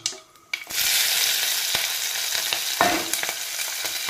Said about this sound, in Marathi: हे सगळं आता मिक्स करून आपण तेलात टाकणार आहोत.